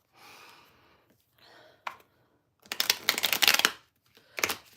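A deck of cards is shuffled close by, with soft riffling passes followed by a louder, crisp flurry of shuffling and a final short riffle, preceded by quiet breathy sighs.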